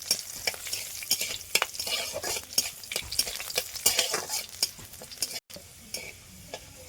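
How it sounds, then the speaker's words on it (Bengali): Crushed garlic fries in hot oil with a bright, crackling sizzle, and a metal spoon stirs and scrapes the pan in quick, repeated strokes close by. "এবারে রসুনটাকে বেশ লাল লাল করে ভেজে নেব"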